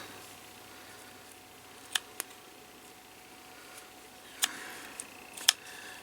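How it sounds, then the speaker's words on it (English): Scattered sharp snips of scissors cutting an eye hole in a Halloween costume, a few quick clicks spaced irregularly, close and fairly quiet against a faint background hiss. "I should use smaller scissors for this."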